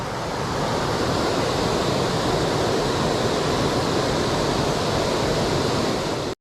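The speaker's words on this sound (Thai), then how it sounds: "แม่น้ำสายนี้มันจะมาเชื่อมต่อกับ น้ำตกแม่กางครับผม" River water flowing toward Mae Klang waterfall, a steady loud rushing wash that continues unbroken and then cuts off abruptly.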